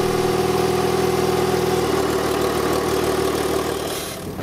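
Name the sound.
car engine idling smoothly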